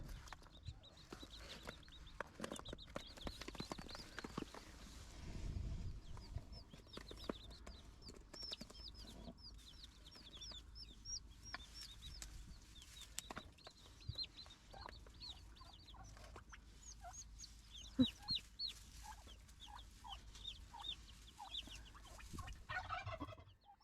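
A turkey hen with her young poults and chicks, soft clucks and high peeping calls repeating throughout, quiet and somewhat distant, with faint handling knocks in the background.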